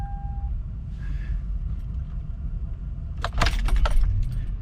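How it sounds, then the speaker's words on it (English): Keys jangle and click as a key turns in the ignition of a 2005 Toyota Land Cruiser, a brief metallic rattle over a low engine-bay hum with a faint warning chime tone at the start. "So I'm going to turn to the first spot on the ignition here."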